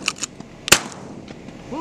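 A single sharp shotgun report at clay target shooting, one crisp close bang with a short tail, with other fainter clicks and a brief voice nearby.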